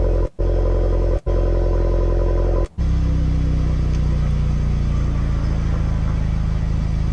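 After a few short cutoffs, a VW Golf R with an aftermarket exhaust idles with a steady, deep rumble, close and continuous, with a slight pulsing burble.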